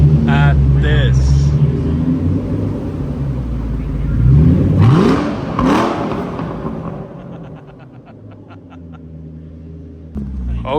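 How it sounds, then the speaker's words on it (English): A Ford GT Heritage rolls in with a low engine rumble, then gives a couple of rising rev sweeps midway before fading. People talk over it at times. "a Ford GT Heritage just is casually driving in like it's no big deal"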